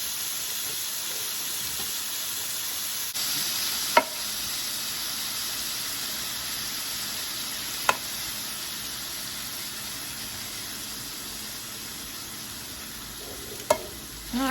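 Steak for low-carb tacos sizzles steadily in a hot pan, a constant loud hiss with a few sharp clicks of a utensil against the pan, no talking.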